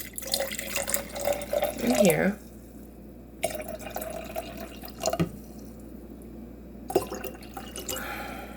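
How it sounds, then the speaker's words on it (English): Kava drink poured from a container into a cup, a short burst of liquid trickling and splashing followed by a few scattered drips and clinks, with a person talking briefly nearby. "So I'm going to pour 1 cup"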